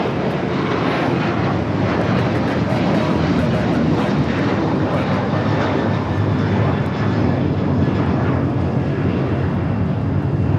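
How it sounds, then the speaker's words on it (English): An Alaska Airlines Boeing 737-800 departs LAX with a sustained, rumbling jet roar at a distance, constant and unbroken for the whole stretch. "This is Alaska Airlines 1418 taking off to Guadalajara on the 737-800"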